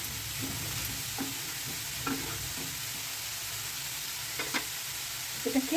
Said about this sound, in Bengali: গাজরটাকে আমি একটু হালকা ভেজে নেব